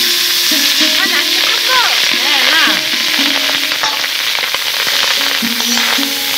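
About two spoonfuls of homemade ghee crackle and sizzle in a hot wok for fried rice, a close, busy frying sound with stirring scrapes, heard under background music.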